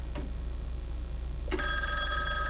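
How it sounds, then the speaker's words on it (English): A telephone bell rings, set off by a wireless transmitter placed beneath the phone, with a faint trill early on and then a loud, sustained metallic ring over a steady low hum. "when I make the phone ring"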